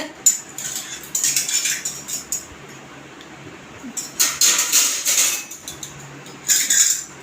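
A metal spoon and ladle are handled in a kitchen, clinking and scraping in irregular bursts of bright metallic taps, close and moderately loud, with quiet pauses between clusters.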